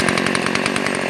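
A Hyundai X460 petrol chainsaw idles close by, a rapid, even buzzing putter at low throttle with no voices.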